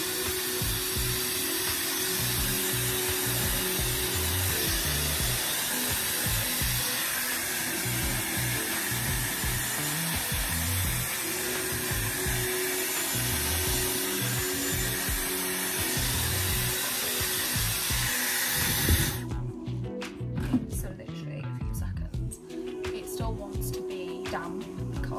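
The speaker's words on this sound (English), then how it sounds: "I'm literally going to take the styler first and quickly just blast my hair for a few seconds." A Dyson Airwrap styler blasts air through hair in a steady, loud, close roar for about nineteen seconds, then cuts off, leaving quieter rustling and handling sounds.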